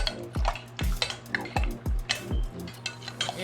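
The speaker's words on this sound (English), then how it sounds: "We'll add a magic ingredient, which is apple cider vinegar, and stir it quickly so that it congeals" Milk for goat cheese is stirred quickly in a pot after apple cider vinegar goes in. A spoon strikes the pot in a brisk, regular rhythm of clinks and scrapes, close by and alone with no talking.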